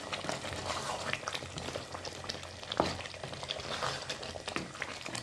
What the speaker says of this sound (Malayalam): ഒരു 1/2 ടീസ്പൂണോളം ഗരം മസാല പൗഡർ ഇട്ട് കൊടുക്കാം ഇളക്കിക്കൊടുക്കാം